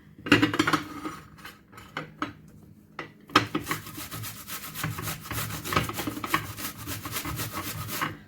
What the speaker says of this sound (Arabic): هنايا البصله غنشدها نحكها هكاكا كبيره